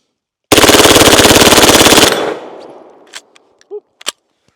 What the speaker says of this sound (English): let's go ahead and run one more mag through it just because I feel like it